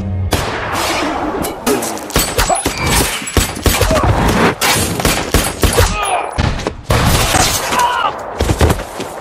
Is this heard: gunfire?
yes